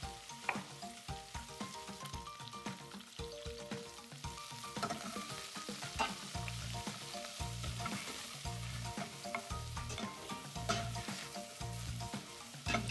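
Onions, garlic, green pepper and ginger sizzle steadily in a pan for a mushroom curry, with soft stirring and scraping sounds throughout and no talking.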